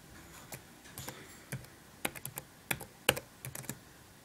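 Keys clatter on a Toshiba Satellite laptop keyboard as a password hint is typed, with light, irregular taps in small clusters that are close and fairly quiet, then a few sharper presses near the end.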